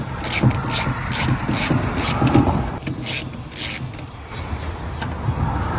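A ratchet loosens Jeep Wrangler JK door hinge screws: close bursts of rapid metallic clicking with pauses between them, over a low mechanical background.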